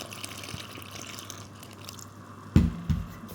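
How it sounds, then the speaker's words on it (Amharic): Water poured into a sugar-sweetened dough mixture being prepared for bread, a quiet liquid trickle followed by two louder close splashes and knocks near the end. "ውሃውን ልጨምር"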